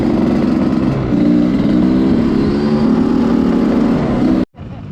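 A motorcycle engine runs loud and steady at the hot start of an off-road race event at Tera Nova, then cuts out abruptly near the end, leaving brief quiet.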